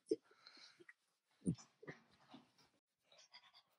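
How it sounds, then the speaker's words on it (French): A small dog pants in short, quick bursts inside a car, fairly close but soft, with a person talking over and between the breaths. "Qu'est-ce que c'est ce petit chien?"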